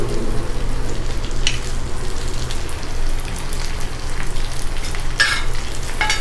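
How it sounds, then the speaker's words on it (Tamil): Onions and curry leaves fry in a pan for egg masala, giving a steady, close sizzle with faint crackles and pops throughout, and no voices. "இந்த ஸ்டேஜில் நம்ம கொஞ்சமாக கருவேப்பிலை ஆட் பண்ணிக்கலாம்."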